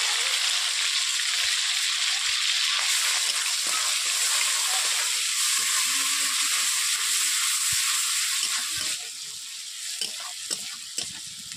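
Chopped onions and two green chilies frying in hot oil in a pan, giving a steady loud sizzle and hiss with occasional stirring clicks. The sizzle eases slightly near the end.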